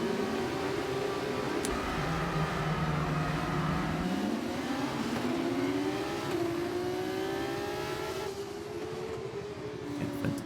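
Race cars start a race at Spa-Francorchamps in the F1 25 video game, engines revving and rising in pitch through gear changes, a steady close engine drone that eases slightly at the end.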